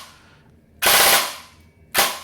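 A CYMA CM.009F XM177 E2 airsoft rifle fires two loud, close full-auto bursts, a long rattling burst followed after a pause by a shorter one starting at the end.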